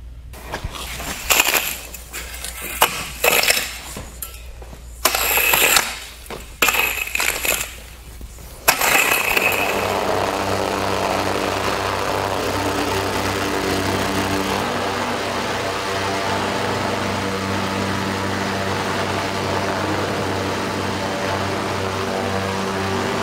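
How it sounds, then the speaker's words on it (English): Plate compactor running over clay paving joints swept with wet sand, first irregular bursts and knocks, then a steady loud engine drone with vibrating hum continuing alone to the end. "After nearly 10 passes with our compactor, we still don't have joint fill."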